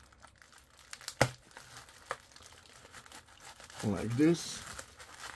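Packaging material being cut and peeled open by hand, a sharp tearing crinkle near the end and a few crisp clicks earlier, fairly close and quiet, with a voice speaking briefly.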